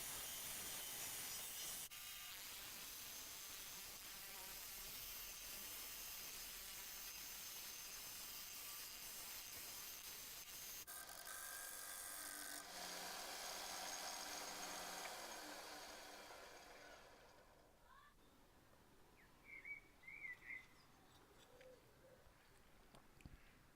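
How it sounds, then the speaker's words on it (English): A disc sander grinds steadily against scrap wood being shaped into a circle for a paper towel holder, a continuous whooshing rasp that stops partway through as the motor spins down, leaving quiet room noise. "I can sand right up to those lines and get a nice circle."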